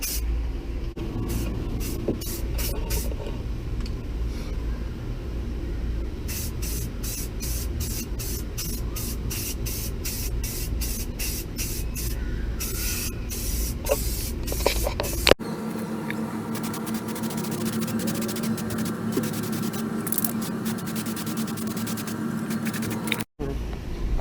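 Spray paint applied to the underside of a Jeep XJ: short rhythmic hissing bursts from the can, then a longer steady spray, all close over a constant background hum.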